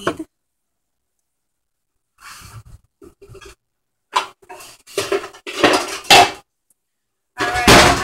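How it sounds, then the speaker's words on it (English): Pot of boiling rice and tomato being stirred with a utensil, giving sparse scraping and clanking bursts against the metal between silent gaps. "Alright, the rice has been boiling. Give it a good hard mix."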